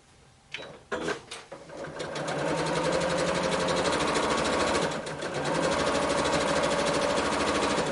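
A sewing machine stitches quilt blocks in a fast, continuous mechanical whir that begins after a few brief handling clicks and runs steadily to the end with one short dip.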